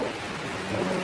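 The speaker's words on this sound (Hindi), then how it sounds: "बाहर बहुत तेज बारिश हो रही है।" Heavy rain pours steadily in a cartoon forest, a dense, constant hiss with a low rumble of thunder beneath it and no voices.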